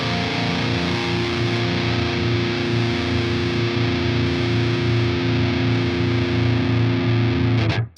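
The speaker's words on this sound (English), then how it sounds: "you're going to hear some high-end character going on top of the guitar tone" Electric guitar running through a KOBRAA metal amp sim, a thick sustained distorted tone with extra high-end sizzle on top, played steadily and loud for several seconds before it cuts off abruptly.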